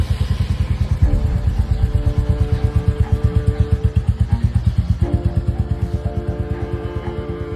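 A Royal Enfield Classic 350 motorcycle engine runs close by with a loud, steady, even thumping beat that shifts slightly in pitch twice, with no talking.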